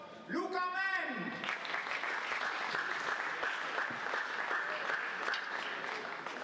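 Sustained applause from a pool hall audience honoring the European men's 9-ball champion at the 2024 European Championships final, steady and dense throughout after a brief voice at the start.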